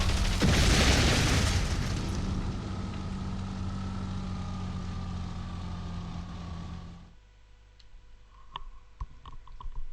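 A video-game explosion of a weed plant, a loud booming burst at the start that rumbles and fades over several seconds, followed by quieter clicks and pops.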